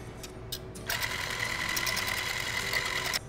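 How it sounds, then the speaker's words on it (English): Heavy whipping cream is whisked toward medium peaks, a fast, steady mechanical whirring that starts abruptly after a few short bursts and runs loud and close until it stops near the end. "we're gonna whisk it to about a medium peak or so"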